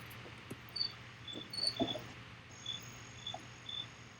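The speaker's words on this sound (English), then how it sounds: "the sound of the crickets" Crickets chirp in short repeated bursts over a steady low hum, a few distinct chirps spaced across the background.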